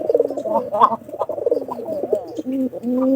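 A white pigeon coos close by in low, throaty, rolling phrases that repeat several times, clear and fairly loud, with no talking over them.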